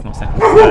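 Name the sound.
dog barking in the background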